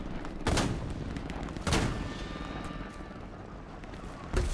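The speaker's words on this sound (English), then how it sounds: "Those ricochet sounds are amazing." Hell Let Loose battle on the Eastern Front: several loud gunshots crack at intervals, and bullets ricochet with thin whining zings, all over a constant rumble of distant combat.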